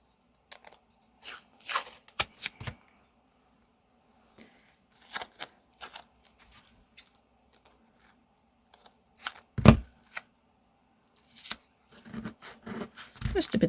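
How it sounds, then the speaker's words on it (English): Masking tape is pulled and torn in short crackly bursts, then pressed onto a damp paper art-journal page, the scattered rips and rubs coming close up and moderately loud with brief quiet gaps between them. "Just a bit of masking tape"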